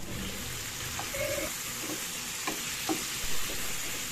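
Pizza tomato sauce cooking in a pan, with a steady low sizzle and a few soft scraping stirs of a spoon, close and fairly quiet, with no voices.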